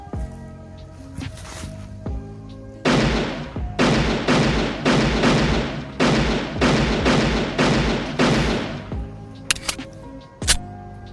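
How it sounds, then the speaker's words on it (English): A Beretta 92FS prop handgun fires a rapid burst of about eight sharp, loud reports in quick succession, with a few isolated pops before and after. "Beretta 92 FS, fire."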